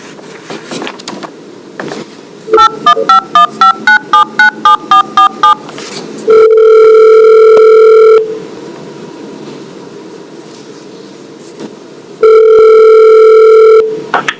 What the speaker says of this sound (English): we're going to Zoom him in and dial him up